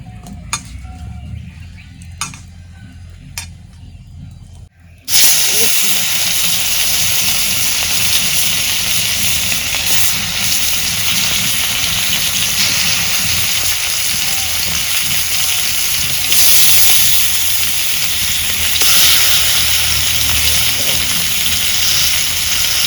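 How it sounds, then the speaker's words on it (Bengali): Fish coated in salt, chili powder and turmeric hits hot oil and breaks into a loud, steady sizzling hiss that continues unbroken, preceded by a few quiet clinks and handling sounds. "মাছগুলা মাহাইয়া ভাজা নেব।"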